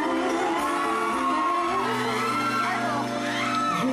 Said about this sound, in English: I love the crowd's reaction.